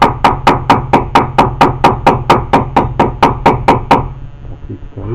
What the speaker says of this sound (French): J'utilise un petit marteau, donc pas de violence.